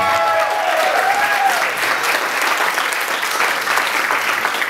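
Wedding guests applaud the bridal party's entrance, a dense sustained burst of clapping from a large crowd at close range that carries on evenly, with faint cheering and a brief voice in the mix.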